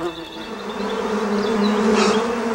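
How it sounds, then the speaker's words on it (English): A steady, close drone of bees buzzing around a beehive fills the whole stretch, a dense hum with no voices over it. "A beehive."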